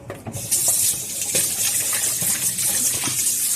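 Dirty water pours out of a container in a steady, close splashing gush for a few seconds, beginning with a few light splashes.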